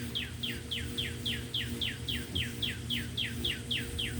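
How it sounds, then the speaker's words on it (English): Small birds sing a steady, rhythmic run of repeated bright chirps, about three per second, over a constant low hum, clearly audible throughout without talking. "you hear the birds singing"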